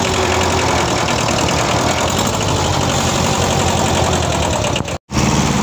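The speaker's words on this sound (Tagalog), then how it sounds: "binababa na ang traktora" A Kubota 1801 tractor's diesel engine idles with a steady, rough, knocking rumble while the tractor is unloaded from a cargo vehicle, loud and close throughout, with one very brief dropout near the end.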